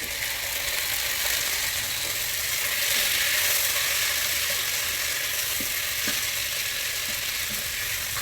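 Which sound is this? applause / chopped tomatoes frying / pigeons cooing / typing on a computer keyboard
chopped tomatoes frying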